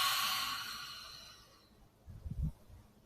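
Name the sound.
breathing out during breathing exercise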